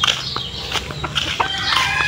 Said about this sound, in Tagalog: Ayan po yung aming mga manok.